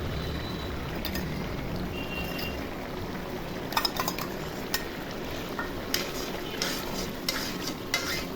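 An egg and potato curry cooks uncovered in an open pan, giving a steady low sizzle and bubbling with a few soft clinks of a spoon against the pan.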